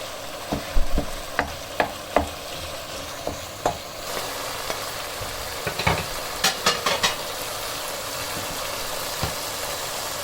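Minced meat fried and stirred over high flame in a tomato masala for a cabbage, keema and potato curry, a constant sizzle with regular sharp knocks of a spoon breaking up the mince against the pot.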